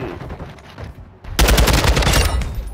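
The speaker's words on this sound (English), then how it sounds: "Oh, I got shot in my back." Dense gunfire in Call of Duty: Modern Warfare II, quieter shots at first, then a loud, sustained burst of rapid automatic fire close by that fills the second half.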